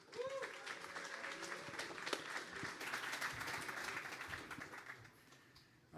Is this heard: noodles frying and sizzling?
no